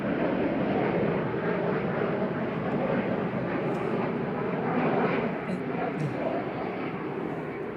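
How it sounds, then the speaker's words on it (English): A Boeing 737 airliner touches down at Manchester Airport with a broad, distant jet-engine rumble that stays steady and fades slightly, while people chat nearby. "A380 will be lining up behind the arriving 737, just touching down now"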